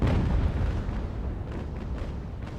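Cannon fire from ships in a naval battle in the Age of Sail video game Ultimate Admiral: dull distant booms rolling into a continuous low rumble, several faint bursts toward the end, no talk.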